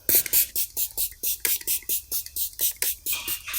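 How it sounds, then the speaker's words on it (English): Quick, rhythmic hissing spritzes of a makeup setting spray bottle repeat in a rapid series, close and soft, like a fine mist being pumped out. "add just a little bit of a setting spray"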